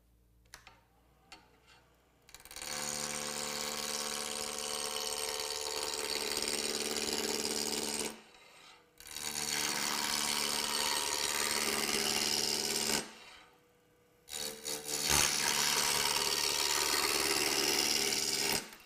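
A wood lathe spins while a roughing gouge cuts a square spindle blank toward round, giving a loud, continuous rasping scrape in three long bursts separated by brief pauses, close and without talk.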